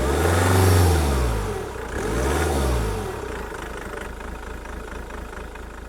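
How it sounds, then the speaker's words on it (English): Jaguar X-Type 2.0L diesel engine starting and revving, with two loud swelling rev sweeps in the first half before settling into a steady, closer idle. "Start the engine, just raise the revs a bit."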